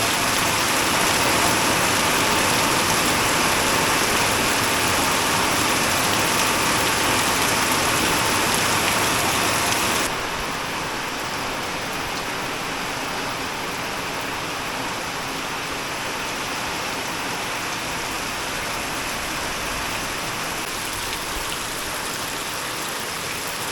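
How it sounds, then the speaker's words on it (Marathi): Light, steady rain falls in the Konkan countryside, a dense continuous hiss that is slightly louder for the first ten seconds and then settles into an even, unbroken patter with no voices. "असं बारीक बारीक पाऊस कंटिन्यू चालूच आहे"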